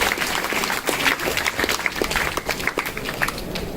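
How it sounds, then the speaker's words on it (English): An audience at a panel discussion applauds the judges, a crowd clapping steadily with irregular louder claps, filling the room without talk. "So I request all the audience to join your huge round of applause to our judges"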